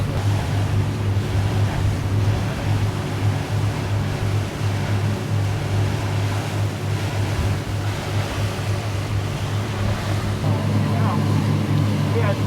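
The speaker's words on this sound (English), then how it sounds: "Headed over to the state park on the boat." A boat runs across open water toward Caladesi Island, a Florida barrier island state park, a steady engine drone with constant wash and wind over the hull, loud and close for the whole stretch.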